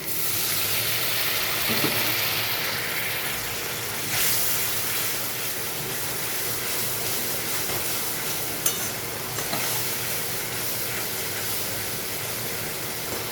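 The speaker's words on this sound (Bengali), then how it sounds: "মশলা কষানোর জন্য একটু জল দিয়ে দিচ্ছি।" Water poured onto spice paste frying in a pan for aloo potol rasa sets off a steady, loud hissing sizzle, close and continuous, with occasional stirring scrapes and no talking.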